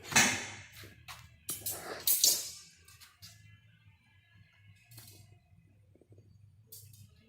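Small metal parts clink and rattle in a few short bursts as they are slid into a hollow tube, close and fairly faint, followed by a quieter stretch with a couple of light knocks.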